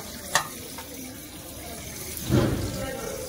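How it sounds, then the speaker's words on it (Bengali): Plates being washed under a running tap in a sink: a steady wash of flowing water with a brief clink early on and a louder splash of water near the end, close by. "ভালা করিয়া বাসনটা ধুইয়া আবার রেকো রাখার লাগে"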